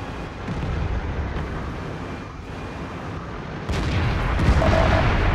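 Tank guns fire in the game World of Tanks, with a tier 10 heavy American tank nearby: a continuous dense rumble of blasts and booms, louder over the final seconds, with no talk.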